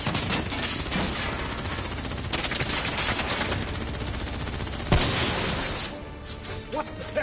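Sustained gunfire during a combat sweep with troops taking cover, dense and loud throughout with a sharp crack near the middle before it thins out.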